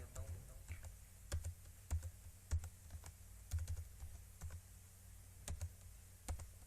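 An ID card number being typed on a computer keyboard, quiet clicking keystrokes in uneven bursts with short pauses, close and faint.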